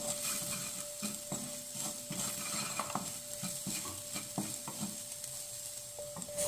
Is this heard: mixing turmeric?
yes